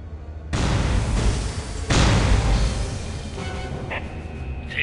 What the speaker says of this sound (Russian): Я подорвал целый склад с пропаном.